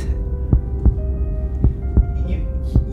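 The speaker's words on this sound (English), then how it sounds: "The awful sound. The heartbeat." A loud, deep heartbeat thumps in a slow, even rhythm, roughly every half second, over a low steady hum, about five or six beats with no talking.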